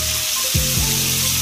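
Butter going into a pan on low heat, a dense even sizzle that keeps on steadily, with a low hum and a couple of brief tonal sweeps underneath, no talk.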